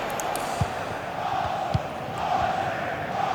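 Stadium crowd in a football video game: a steady, distant roar of spectators with a couple of brief thumps and no clear cheering peaks.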